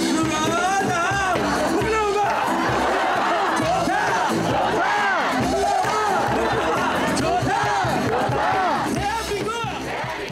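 An audience cheers at an edgy Arirang performance in Seoul at night, with loud, continuous crowd shouts, whoops and voices building into a dense roar that fills the whole stretch.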